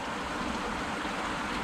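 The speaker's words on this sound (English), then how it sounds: "the water runs mostly down here" Creek water flows steadily in Iowa, a continuous broadband rushing with no distinct events, close and even in level throughout.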